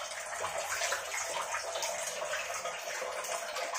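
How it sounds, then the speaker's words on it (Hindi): Water splashes and sloshes steadily in a basin as leafy greens are swished around and rinsed of soil, continuous and close. "इस तरीके से धोकर छानना होता है और ऐसे धोने से मिट्टी निकलता है"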